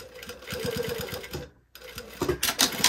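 A sewing machine stitches fabric for a quilted garment. A close, fast run of rhythmic stitching breaks off briefly and then starts again.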